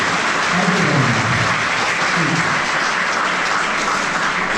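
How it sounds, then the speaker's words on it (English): Steady audience applause fills the hall after a presentation at R.D. Engineering College in Ghaziabad, a dense, even clatter of many hands that holds at the same loudness throughout, with a faint voice murmuring underneath. "let's have a round of applause for you"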